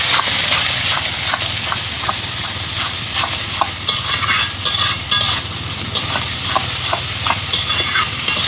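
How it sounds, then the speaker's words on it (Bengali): Spice paste for a Bengali mutton and potato curry being stir-fried over a wood fire, with a continuous loud sizzle and a steady rhythm of metal ladle scrapes and clinks against the pot. "এবার ভালো করে কষতে নেবো।"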